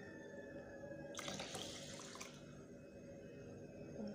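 Water runs in a short burst into a blender holding rice, a splashing gush lasting about a second amid quiet background hum.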